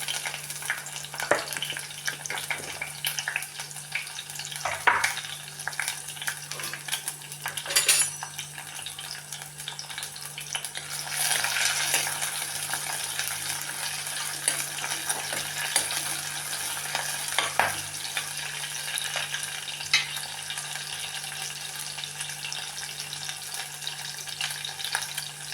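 Green chillies and garlic sizzle steadily in hot oil, with intermittent scraping and stirring clatter through the pan, fairly close and without voices.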